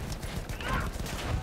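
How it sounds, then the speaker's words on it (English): Horses clip-clop at a steady trot in a combat video game, drawing nearer under a constant low engine rumble. "you got two horses coming up"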